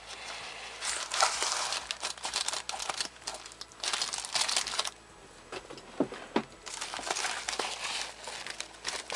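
Plastic and paper wrapping of an album package crinkles and tears as it is cut open with scissors, in close, continuous bursts of rustling with a brief pause midway.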